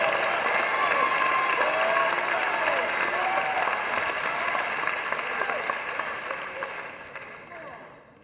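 Sustained loud audience applause with cheering fills a large conference hall at a church event, steady throughout and fading toward the end, with no one speaking over it.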